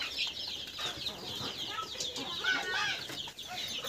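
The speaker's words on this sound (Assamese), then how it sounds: "500-600 মান মুৰ্গী আছে তাইৰ" Hens cluck and murmur softly together in a poultry shed housing several hundred chickens, a faint continuous chorus of bird calls with no talk over it.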